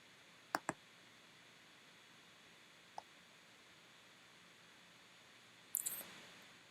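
A few sharp computer mouse clicks, a quick double click near the start, one faint single click, then a louder cluster of clicks, against a quiet room hiss with no talk.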